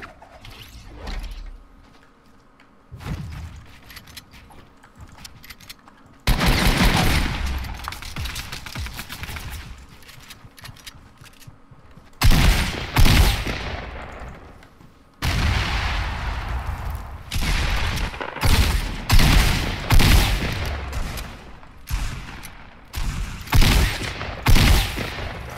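Bursts of rapid automatic gunfire in a Fortnite match, loud and close, coming in several separate volleys with brief quieter gaps between them and growing denser toward the end.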